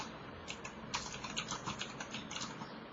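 Quick, fairly quiet keystrokes on a computer keyboard tap out in an irregular run, close by, with no talking over them.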